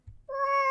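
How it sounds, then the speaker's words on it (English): A single drawn-out cat meow from the horror game Ib, clear and fairly close, rising after a brief low thump and holding steady to the end, with no voices. "The cat."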